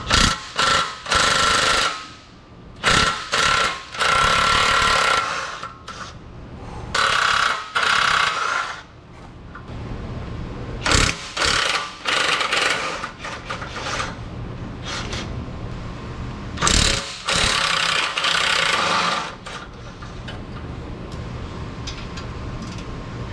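A hand ratchet or power tool works 10mm bolts loose around the J35 V6 engine of a 2012 Acura RL during an oil pump reseal, in loud, repeated mechanical bursts separated by short pauses.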